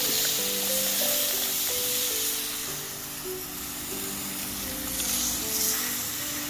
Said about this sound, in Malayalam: ഞാനൊരു പുളി പിഴിഞ്ഞ് വെച്ചിട്ടുണ്ട് അതുകൂടെ ഒഴിച്ച് കൊടുക്കാം